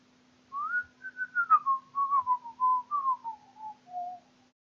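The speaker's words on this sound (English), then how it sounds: "really shouldn't whistle straight into the microphone" Someone whistles a wavering, descending tune very close to a microphone, a string of short clear notes lasting about four seconds, with a faint steady hum underneath and no talking.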